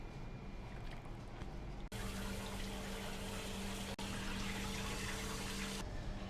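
Tap water runs steadily while cleaned red mullet fish are rinsed, a continuous hissing splash that cuts off briefly twice, with no talk over it.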